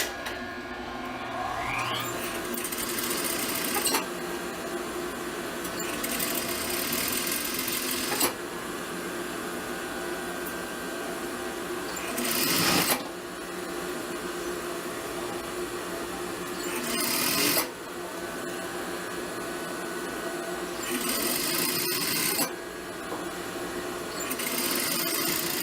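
Sewing machine stitching a facing trim onto a pair of clochard trousers, running in steady buzzing bursts of several seconds separated by brief pauses, close and fairly loud with no talking.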